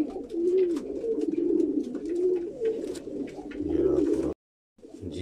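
Steady low cooing from a Pakistani zarcha pigeon, close by and continuous, with a brief pause near the end before the cooing resumes; a single short spoken word at the start.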